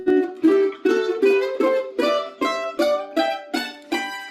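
Bluegrass mandolin plays a run of double stops in thirds, about a dozen crisp two-note picks at an even walking pace, each ringing briefly, played up close with no voices.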